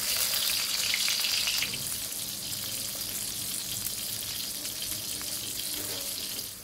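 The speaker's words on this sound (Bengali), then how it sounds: "তেল গরম হয়ে গেছে, এখন আস্তে আস্তে মাছগুলো দিয়ে ভেজে নেই" Fish slid into hot oil in a wok crackles and sizzles, loudest in the first moment and then settling into a steady, close hiss.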